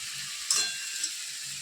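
Spice paste of turmeric, chili and cumin powders with salt fries in a pan for a Bengali cauliflower and katla fish curry, giving a soft, steady sizzle close by with a brief stir-clink partway through.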